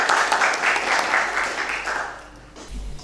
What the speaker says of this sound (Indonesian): Tepuk tangan untuk Nafaza